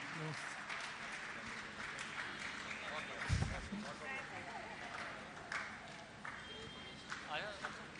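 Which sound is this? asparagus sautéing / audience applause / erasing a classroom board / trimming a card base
audience applause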